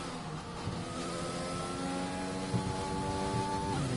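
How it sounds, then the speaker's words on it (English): Racing cars in a video game run an out lap on the Australian Grand Prix track, their engines holding a steady, fairly quiet whine with a slight rise in pitch. "First couple of cars making their way around on their outlaps."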